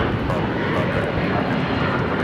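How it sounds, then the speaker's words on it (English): A United Airlines Boeing 757-200 taking off at Los Angeles International Airport, its jet engines roaring as a loud, steady, broadband rush that fills the short stretch without pause. "That is United Airlines 1591 taking off to Houston Intercontinental on a 757-200"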